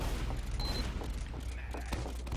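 Sticky bombs go off in a competitive Team Fortress 2 match on the Snakewater map, a few sharp muffled blasts over a dense layer of game noise.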